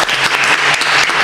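Brief, close, loud burst of applause from a studio audience for a guest named Dani, a dense patter of clapping hands lasting just over a second.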